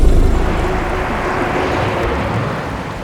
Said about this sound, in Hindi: बारिश बहुत तेज हो रही है